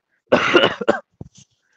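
A short burst of harsh coughing up close, followed by a couple of faint throat-clearing sounds, then silence.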